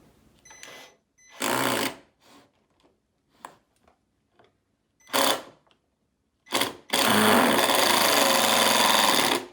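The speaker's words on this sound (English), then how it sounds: "Let me put the drill in." A power drill whirs in several short bursts into wood, then runs in one long sustained spin, loud and close.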